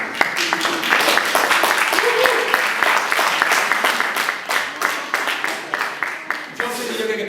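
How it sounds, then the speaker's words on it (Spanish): A church congregation claps for a member after a reading during a Spanish-language sermon, dense rapid hand claps close by, with several individual sharp claps standing out and voices mingling under them. "Un aplauso a la Jocelyn, hermano."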